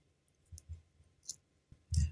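A few soft, close computer mouse clicks, scattered and faint, ending in a slightly louder double click in a quiet room.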